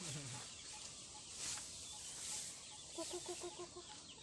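Bantam and native chickens clucking in a Thai farm setting, with several short clucks near the start and a quick run of rhythmic clucks toward the end over steady outdoor background.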